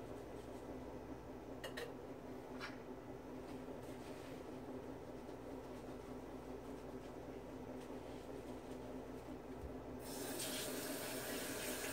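Water from a tap runs in a steady stream into a sink while soap is rinsed off, a continuous close wash that grows a bit louder and brighter near the end, with no talking.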